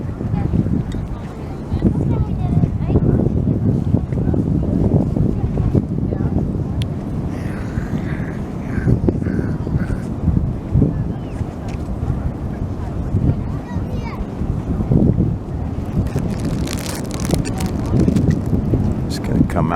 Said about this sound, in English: Beautiful waves over there.